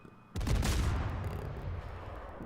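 A warship's big guns boom out in a naval battle game, one loud blast that rings and fades over about two seconds, heard alone.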